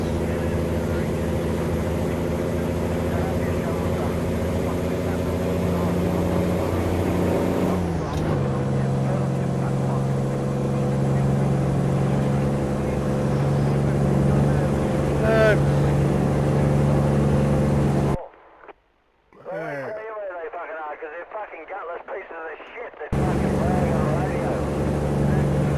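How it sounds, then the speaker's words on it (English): A truck engine drones steadily in American Truck Simulator, loud and continuous under voices, cutting out briefly toward the end before the rumble returns. "Truck engine is kind of drowning out the CB a little bit"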